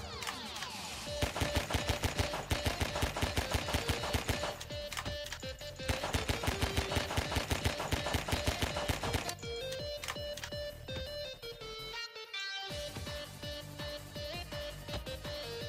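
Rapid automatic gunfire in Garry's Mod Flood, continuous loud bursts of close shots that repeat in quick rhythm for the whole stretch, with only a brief break near the end and no talking.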